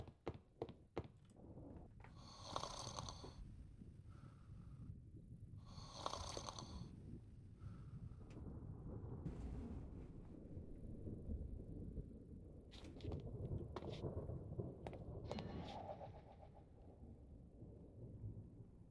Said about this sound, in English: I heard thunder for some reason, and I'm not sure why.